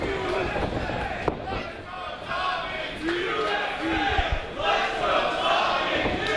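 Wrestling crowd at an indie show cheering and chanting with evenly split loyalties, a dense roar swelling and dipping throughout, with a commentator talking over it.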